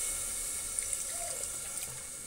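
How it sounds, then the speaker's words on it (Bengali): Water pours into a cooking pot in a steady splashing stream, with a few faint clinks over a hissing rush. "এবার দেখো এর মধ্যে আমি পরিমাণ মতো জল দিয়ে দেবো"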